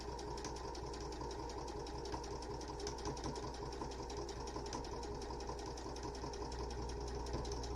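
A sewing machine top-stitches a fabric face mask. Its needle chatters in a fast, even rhythm over a steady motor hum, close and continuous, with no voices.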